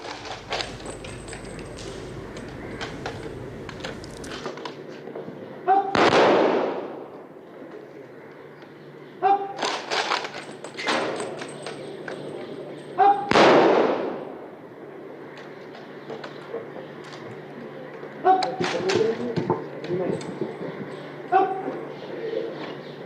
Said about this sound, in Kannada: ಮೃತರ ಗೌರವಾರ್ಥ ಮೂರು ಸುತ್ತು ಗುಂಡು ಹಾರಿಸುವ ಮೂಲಕ ಸಕಲ ಸರ್ಕಾರಿ ಗೌರವಗಳೊಂದಿಗೆ ಅಂತಿಮ ವಿಧಿವಿಧಾನವನ್ನ ನೆರವೇರಿಸಲಾಯಿತು